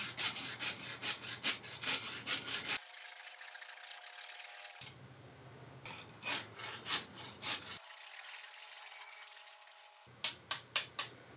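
Repeated back-and-forth strokes of a hand saw biting through a hollow metal piece, steady and close, with a couple of brief pauses between bursts.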